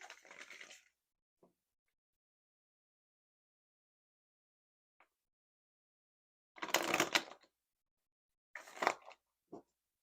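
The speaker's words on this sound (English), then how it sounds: "I'm just going to finish shuffling." Short bursts of tarot cards being shuffled, a riffle at the start and two louder riffles later, separated by near silence with a few faint taps.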